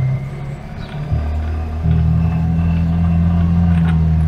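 A tuk tuk's engine runs steadily while driving, a loud, meaty low drone that shifts pitch around gear changes before settling into a constant rumble.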